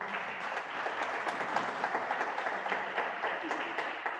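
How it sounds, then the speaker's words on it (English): An audience at a school feeding day commemoration applauds once more, a continuous wash of many hands clapping at moderate volume, steady throughout with no voices on top. "May we give them a round of applause once more."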